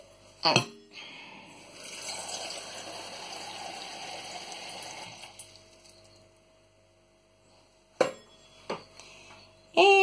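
Water pours into quinoa in a kitchen pot, a close, continuous splashing stream lasting a few seconds, framed by clanks of utensils and some talk.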